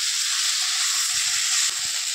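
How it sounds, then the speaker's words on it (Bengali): Washed Gobindobhog rice frying with potatoes in a pan: a loud, steady close-up sizzle and hiss of hot oil, with a few low knocks of a spatula near the end. "এইটাকে আমি এবার হালকাভাবে ভেজে নিব।"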